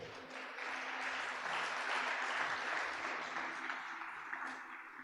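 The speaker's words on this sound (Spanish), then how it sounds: "Le da palmas al Señor por eso." A church congregation claps together in a broad, steady burst of applause that swells and holds for several seconds, with a little voice mixed in.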